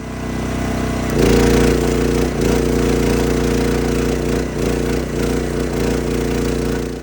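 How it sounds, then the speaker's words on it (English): Steady, loud mechanical drone with strong low harmonics, likely a welding machine or generator, runs throughout while steel frame pieces are joined for shooting range stands. It dips briefly in places but never stops. "we're just welding it together and putting a cross brace in it right here"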